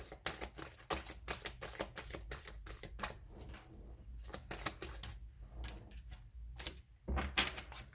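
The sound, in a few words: tarot card being drawn from the deck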